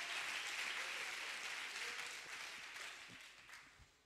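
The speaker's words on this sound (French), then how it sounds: "Give the Lord a hand clap offering for them." A church congregation gives a round of hand-clap applause for Sunday school members. The clapping is loud at first and gradually thins and fades, with a few scattered claps near the end.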